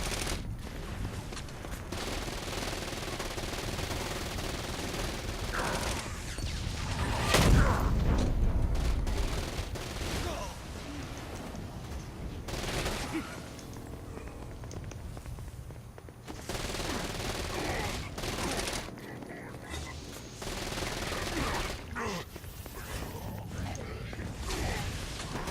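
Automatic and rapid gunfire from a favored gun in the video game Saints Row: Gat Out of Hell, loud and continuous across a dense mix of game sound, with a heavier burst partway through.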